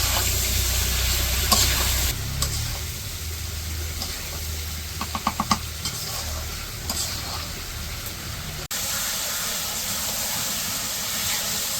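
Taro stolons fry in fish oil in a village kitchen with a constant loud hiss of sizzling and steam, broken by a few faint clicks of stirring, close up and unbroken by talk.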